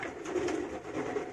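Soft pigeon cooing from a Van Loon and Stoli line racing pigeon, a low rounded warble repeating steadily and fairly close, with no voices present.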